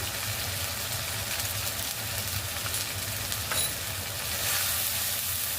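Hot oil spattering in a pan while frying khichuri, a dense steady crackling sizzle that stays close and even throughout, with no voices.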